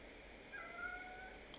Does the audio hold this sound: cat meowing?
yes